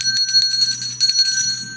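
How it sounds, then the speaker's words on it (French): A bell rung at a Haitian public gathering, where each ringing honours a named person; a bright metallic ring is struck repeatedly in a fast, steady rhythm, loud and close, with its tone hanging on between strikes and no talking. "Coup de cloche pour monsieur Chris."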